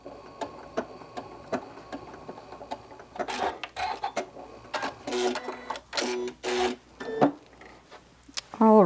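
Sewing machine stitching out a small decorative fish pattern, rapid clattering stitch bursts that start sparse and grow denser and louder, with a few clicks between runs and no talking.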